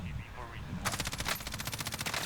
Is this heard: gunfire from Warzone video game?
yes